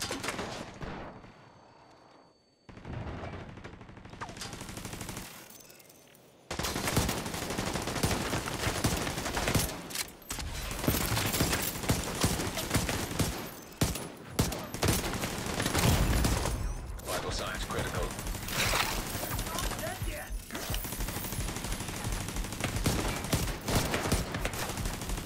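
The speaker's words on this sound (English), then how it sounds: "Enemy fire!" Heavy enemy gunfire in The Division 2 during a solo mission in the American History Museum: loud, continuous bursts of automatic fire with brief lulls, mixed with game voices.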